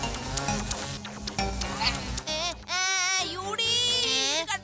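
A cartoon housefly buzzes in a wavering, warbling drone that rises and falls in pitch, coming in uneven bursts, close and fairly quiet, with no one talking.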